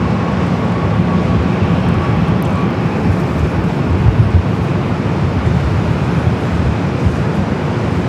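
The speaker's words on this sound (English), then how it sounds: "TAP Air Portugal, also an A330neo, making that turn heading to the West Gates" A TAP Air Portugal Airbus A330neo jet taxis at LAX, heading to the West Gates: a steady, loud, broadband engine rumble holds constant throughout without pauses or talking.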